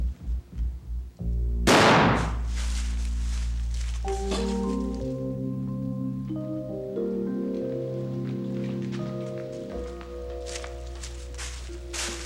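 A single sharp gunshot cracks loudly near the start, preceded by a few soft thumps and followed by a long sustained tonal musical score.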